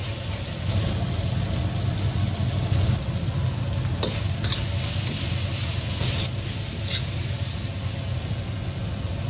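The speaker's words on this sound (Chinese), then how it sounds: "接着倒入牛肉，再次翻炒几下，把牛肉炒上颜色" Beef stir-fried in sauce in a wok sizzles steadily and close, with occasional scraping stirs over a constant frying hiss.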